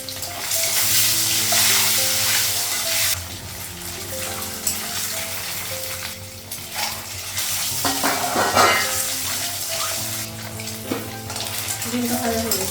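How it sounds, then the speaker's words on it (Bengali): An egg frying in a pan at a home kitchen, crackling sizzle with repeated scraping and stirring strokes of a utensil against the pan, close and continuous, a faint tonal hum underneath. "ডিমটা ভাজা হয়ে গেছে"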